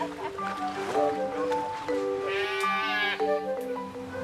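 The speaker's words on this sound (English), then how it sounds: "Yeah, runaway sheep." Sheep on a Tudor-era monastery farm running loose at shearing time, with several loud, wavering bleats overlapping in quick succession close to the listener.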